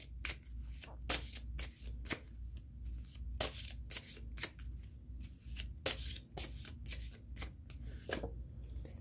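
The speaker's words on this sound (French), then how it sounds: "Et je vais aller piger une carte ici." Oracle cards are shuffled and drawn by hand close up, a series of crisp riffling bursts and soft slaps repeating irregularly, with no talking.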